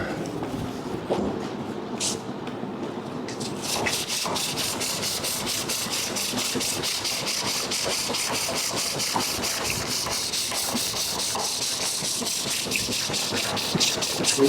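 Wood being burnished on a pole lathe with wet shavings pressed against the spinning greenwood: a steady, close rubbing hiss pulsing rhythmically with each treadle stroke, running continuously after a brief start.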